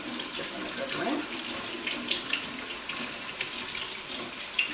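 Canned beans for chili rinsed under a running kitchen tap, a steady close splash of water with irregular spatters and clinks in the sink.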